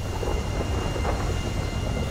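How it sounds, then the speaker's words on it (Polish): A thunderstorm rages over the city of Los Santos in the video game GTA V, a steady roar of heavy rain and deep rumbling thunder filling the scene continuously at high level, with no voices. "Tego dnia nad Los Santos jest burza, ale samoloty mogą startować."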